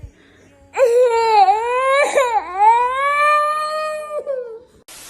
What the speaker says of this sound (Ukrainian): можеш далі плакати